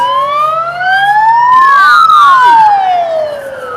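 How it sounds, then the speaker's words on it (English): A loud wailing siren sweeps past nearby, its pitch dropping sharply as the vehicle goes by, then fading slightly. "Oops, we have an ambulance."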